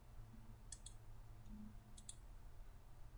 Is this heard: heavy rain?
no